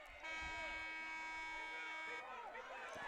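A loud, steady electronic buzzer drones for several seconds at a youth football game, a harsh sustained tone over crowd noise and faint commentary.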